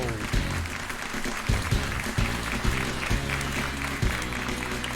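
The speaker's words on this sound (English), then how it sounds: "Thank you for the applause, Ray." Applause on a talk radio show plays steadily, a dense, even clapping texture with some periodic thumps underneath, moderately loud and with no talk over it.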